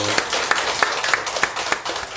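A short burst of congregational clapping at a Won Buddhist sermon service, with several distinct claps landing in a loose, fairly regular rhythm over a softer wash of hands, close and moderately loud.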